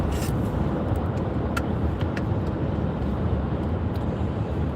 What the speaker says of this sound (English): I'm driving home.